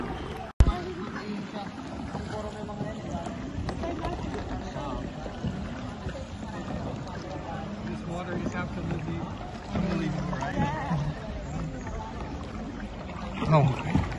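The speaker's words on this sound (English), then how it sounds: "Oh my god, I love kayaking so much." Paddles dip and stroke through calm water as a kayak moves across a big lagoon in El Nido, a steady watery wash with a sharp knock near the start and wind in the background.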